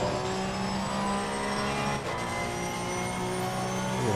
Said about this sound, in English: It sounds fast, or I think it's turbo, or I don't know what's making it sound, whirring sound.